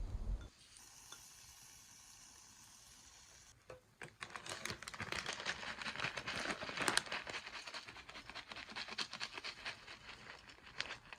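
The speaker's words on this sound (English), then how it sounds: "Put octopus in each hole and sprinkle tenkatsu all over them." Tenkatsu is sprinkled over takoyaki with octopus pieces in the pan. After a quiet start there is a close, dense patter of soft crackles and light sizzling.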